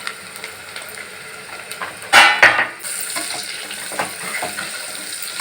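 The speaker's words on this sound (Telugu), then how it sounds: "అల్లం అదే ఎల్లిపాయలను, ఉల్లిపాయలు, పచ్చిమిర్చి వేగినాయి కదా, బ్రౌన్ కలర్ వచ్చినాయి." Ginger, onions and green chilies frying with salt in a pan for a Kuwaiti majboos dish, a steady soft sizzle with a brief louder burst of stirring and crackle midway, no talking.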